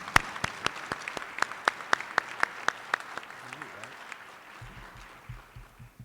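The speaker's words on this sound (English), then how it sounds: "Let's give our seniors a round of applause" A small group claps for seniors at an honor society induction ceremony: sparse, evenly spaced sharp claps echo in a large room, tapering off before a low voice begins speaking near the end.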